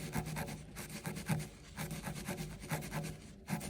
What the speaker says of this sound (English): we take the fleece and we want to polish it like this